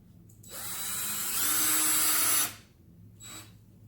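A power drill drives a screw into a rubber shoe sole, whirring loud and close for about two seconds, rising slightly before it cuts off, followed by a brief faint second spin.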